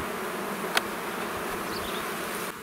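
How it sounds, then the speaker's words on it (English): Agitated honey bees swarm around a hive, a dense continuous buzz close to the microphone with one sharp bee passing very near, no voices. "So that's unhappy bees there."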